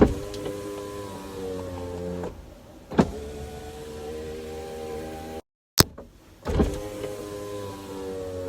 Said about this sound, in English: I'll just show you the windows right now so you can see what I mean